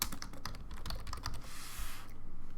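Quick clattering keystrokes on a computer keyboard while an assignment name is typed, a close, fairly quiet run of taps followed by a brief pause.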